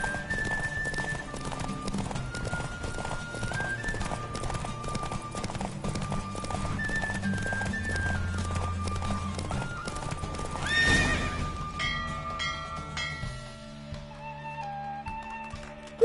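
A horse gallops in a race in the video game The Witcher 3, with rapid hoofbeats under in-game music, a sharp whinny near the end, and the music thinning out afterward.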